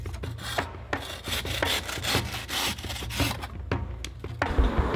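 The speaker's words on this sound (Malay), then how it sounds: "memudahkan Wak Nal memotong buluh mengikut ruas atau satu batang lemang" Bamboo stalks being sawn into node-length segments for lemang, with steady back-and-forth rasping strokes of a hand saw through hollow wood, close and continuous, no talking.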